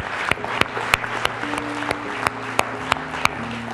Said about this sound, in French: On l'applaudit ensemble ce matin.